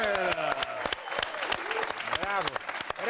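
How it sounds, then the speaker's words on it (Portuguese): An audience applauds at a televised comedy football show with sharp, irregular claps that stand out, mixed with talking and laughing voices throughout the few seconds. "Uma salva de palmas"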